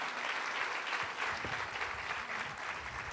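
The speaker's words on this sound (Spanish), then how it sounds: "Un aplauso grande" Church audience giving a sustained round of applause, dense steady clapping from many people filling a room, moderately loud and alone.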